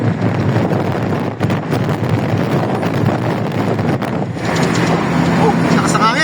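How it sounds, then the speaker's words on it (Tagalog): Strong wind buffeting the microphone on a road trip, a loud continuous roar with gusty dips; a voice talks over it. "Oh, lakas ng hangin."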